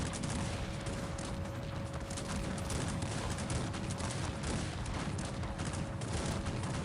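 Cannon and gunfire in the battle strategy game Cossacks 3: dense, overlapping artillery booms and musket volleys rattle continuously under a steady drone, with galloping hooves mixed into the busy clash.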